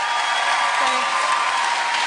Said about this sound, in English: So please give Gemma a round of applause.